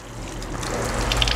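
Tap water runs steadily into a sink as a child's hair is washed at a barber studio, a continuous close splash and hiss with no talk.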